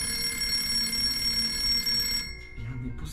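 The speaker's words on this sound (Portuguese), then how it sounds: "é impossível esse telefone tá tocando" An old telephone bell rings steadily inside a house during a night-time legend-hunting investigation, then breaks off partway through and gives way to a quieter room with faint voices.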